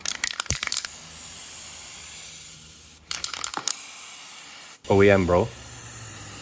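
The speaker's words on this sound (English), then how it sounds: "Bevan's hooking up with some silver paint and they're getting sprayed up" Silver spray paint is applied to BMW E36 kidney grilles in short bursts of hissing spray, two separate passes with pauses between, and someone briefly speaks near the end.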